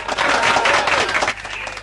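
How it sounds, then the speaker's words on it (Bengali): Loud, dense applause from a studio audience on a live Bangla FM radio show, steady clapping that fades slightly toward the end. "হাততালি, হাততালি, হাততালি, হাততালি"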